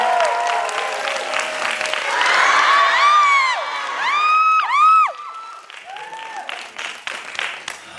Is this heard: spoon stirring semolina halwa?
no